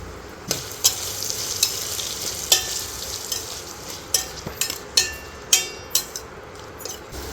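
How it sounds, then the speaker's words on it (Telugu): Onions softening in a pan with turmeric for a Telugu mango mutton curry: a soft continuous sizzle broken by sharp spoon scrapes and taps against the metal, irregular and close. "ఉల్లిపాయలు బాగా మగ్గించేసుకోవాలా"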